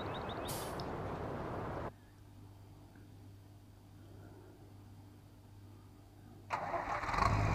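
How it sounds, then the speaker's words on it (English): Tractor engine starting in the Farming Simulator 19 video game on Xbox One X: a loud burst of cranking cuts to a low, steady idle hum, then a louder engine surge at the end. "We start the engine up, lights come on the dashboard."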